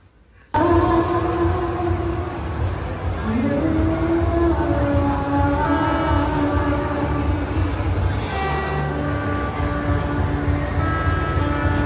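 A motorcycle engine on a road tour runs loudly and continuously, its whining tone rising and shifting as revs change, close and sustained throughout.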